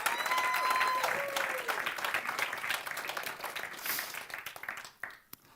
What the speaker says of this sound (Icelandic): Gefum þeim gott klapp, þessu fólki.